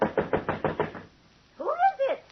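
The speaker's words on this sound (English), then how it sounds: "You knock like the very devils behind you." Sharp knocks on a wooden door in a 1940s radio drama, a quick run of about six raps followed by a short pause and then a voice speaking.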